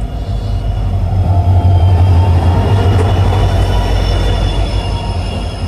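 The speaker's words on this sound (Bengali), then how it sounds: "ফাইনালি ট্রেন গোলাঘাট স্টেশন থেকে ছেড়ে দিল" A passenger train pulling out of Golaghat station in Assam, heard up close as a loud, steady rumble with a strong low drone, faint wheel squeal and rail noise throughout.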